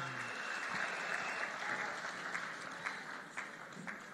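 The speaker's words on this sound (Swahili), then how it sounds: "Tuwapigie makofi wanapokuja." A church congregation applauds as MPs arrive, with steady, dense clapping heard from some distance and fairly faint, tapering slightly toward the end.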